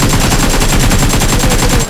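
Rapid automatic gunfire in a PUBG match on the Erangel map, a loud, dense burst of evenly spaced shots throughout, with no talk.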